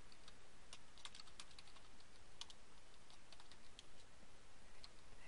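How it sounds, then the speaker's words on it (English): Steady clicking of fingers typing on a computer keyboard, soft and close, with irregular keystrokes running throughout and no talking. "we're going to type in the"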